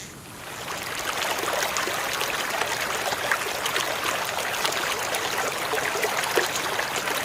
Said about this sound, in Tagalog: may naririnig akong pakaslas ng tubig. May ilog ba dito?